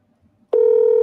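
A single telephone call tone sounds after a brief near-silence, a steady electronic beep starting abruptly and holding for about half a second on a call that goes straight to voicemail.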